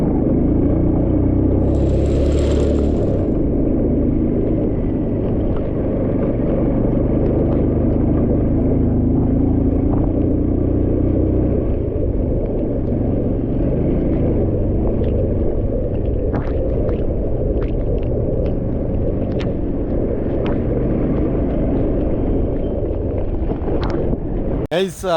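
A vehicle grinds along a rough off-road hill track near Madikeri, giving a steady low rumble with wind buffeting the microphone and a few scattered knocks and rattles toward the end.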